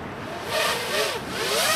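Genius 215 drone with 2600 motors on a 2-cell battery at full throttle, flying away; a steady buzzing whine with rising and falling pitch sweeps, moderately loud and continuous.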